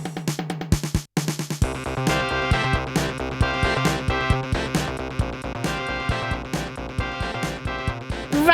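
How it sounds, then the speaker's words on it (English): A 1990 Yamaha synthesizer plays its built-in demo song: an upbeat electronic tune with a steady pulsing beat and layered synth tones. A brief pause near the start is followed by the full arrangement, loud and continuous. "Anyway, the demo sounds like this."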